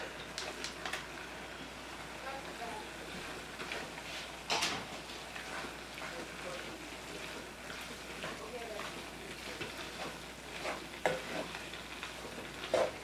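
Chopped shrimp sizzle and fry in a skillet for Cajun egg rolls, a steady crackling hiss broken by occasional stirring scrapes and clinks, with a voice talking over it.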